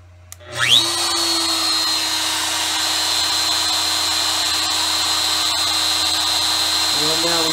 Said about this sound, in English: Let's turn the spindle on.